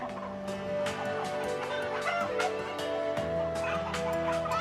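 Backyard poultry yard screened with shade net, many chickens clucking and calling close by in overlapping bursts, with a steady tonal hum running underneath.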